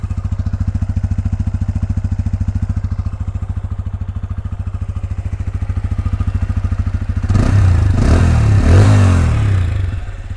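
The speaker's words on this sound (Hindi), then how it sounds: "ये साउंड है इसका रेस देने के बाद में" A TVS Apache 160 2V motorcycle idles steadily at close range, then its engine is revved hard for a few seconds with rising, rougher bursts before settling back, with no voices.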